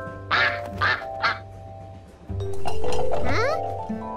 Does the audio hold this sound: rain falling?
no